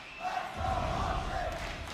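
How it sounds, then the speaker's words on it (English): Crowd noise at a Call of Duty esports tournament, a distant roar of spectators cheering that swells and holds steady behind the broadcast. "You can hear the crowd behind them"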